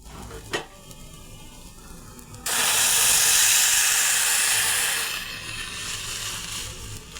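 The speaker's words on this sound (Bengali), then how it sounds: "দুধটাকেও আমি ভালো করে ফুটিয়ে নিয়েছি, এবার ঢেলে দেব।" Boiled milk poured onto fried rice in a pan for payesh makes a sudden loud, sustained steamy hiss that starts abruptly after a faint background and then eases to a softer sizzle; no talking.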